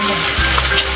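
Sisig fries loudly in a pan while it is stirred. The sizzle is dense and continuous, and a low thump and scrape of the spoon come in partway through. It is close-up, with no voices.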